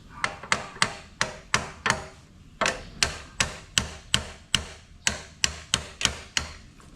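A hammer taps repeatedly on a worn, sticking disc brake, about a dozen sharp metallic knocks in a steady rhythm with brief pauses, close and clear with no talk.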